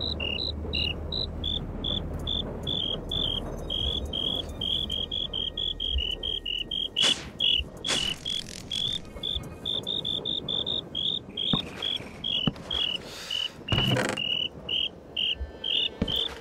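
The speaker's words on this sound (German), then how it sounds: "Okay, ihr verfickten Grillen!" Crickets chirping in After Humans, a dense, steady high-pitched trill repeating for the whole stretch, with a few brief sharp noises breaking in.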